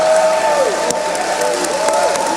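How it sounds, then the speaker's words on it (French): Crowd applause at Comiccon de Québec 2016 fills the space, steady clapping mixed with indistinct voices and cheering, fairly loud and continuous. "vous levez et vous donnez une grande main d'applaudissement à Monsieur Denis Talbot"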